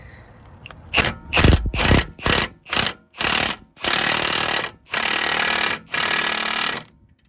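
A Volkswagen Golf R32 rear shock absorber is tightened with a power tool, giving a series of loud, close mechanical bursts: several short rattling ones, then three longer sustained runs.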